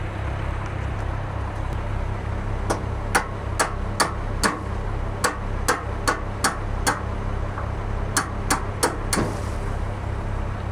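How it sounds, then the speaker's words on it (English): Sharp metallic hammer strikes ring out while working on a truck, a dozen or so blows in quick, uneven bursts, close and loud over a steady low engine-like hum. "I got my bigger hammer right here"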